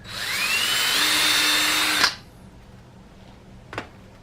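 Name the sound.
power drill drilling a pilot hole through wood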